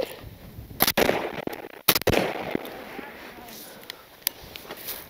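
Shotgun blasts ring out during a hunt in a flooded cornfield, a few sharp reports spread over several seconds, with splashing and movement in between.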